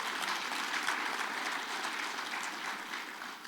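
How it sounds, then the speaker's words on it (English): Steady, dense applause from a conference audience at a crypto event in Las Vegas, even and sustained throughout with no talk over it. "You guys should give yourself a round of applause"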